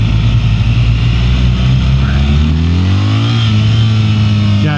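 A BMW R1300 GS motorcycle engine drones loud and steady while riding, its pitch rising and falling with throttle under heavy wind rush, with a rider's voice faintly mixed in.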